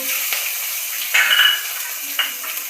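Curry leaves and chopped green chili hit hot oil already seasoned with mustard seeds, cumin and asafoetida, giving a steady close sizzle with a louder hissing burst partway through and light stirring clinks.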